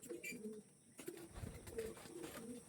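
Domestic pigeons coo faintly in a couple of short, low rolling calls, close by and quiet.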